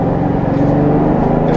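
Kia Mohave the Master 5-seater frame-body SUV driving in sport mode, its engine giving a steady, close, low droning hum with no talk over it.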